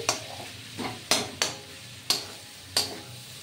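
Potato filling for singara frying in a pan while being stirred, a steady sizzle broken by six crisp scraping strokes of the spatula at uneven intervals, close and clear.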